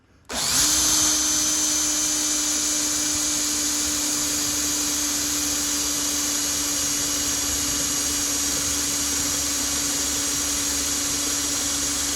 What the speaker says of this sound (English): I'm just using a Makita combi drill, nice and simple.